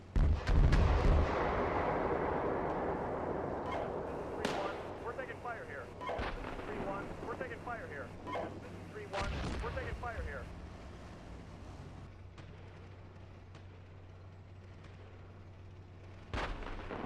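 Heavy gunfire and booming tank cannon shots fill a military video game battle, dense and loud at first, then sporadic blasts and bursts over a low rumbling background, with a voice speaking over it.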